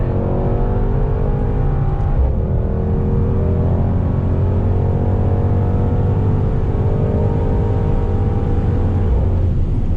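A Mercedes-AMG GT63 S 4-door's engine roars continuously on track at Sepang, loud and close from inside the cabin, with a downshift dip and climbing revs.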